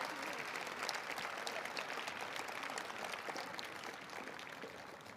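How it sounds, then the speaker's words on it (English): An audience applauds steadily at a state science fair awards ceremony, a dense patter of many hands clapping at a moderate distance, fairly quiet and even throughout. "let's give them all another round of applause."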